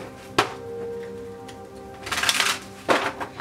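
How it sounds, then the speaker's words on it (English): Cards riffle and snap together in a couple of quick bursts, close by, with soft handling sounds between them. "I'm going to start shuffling for you"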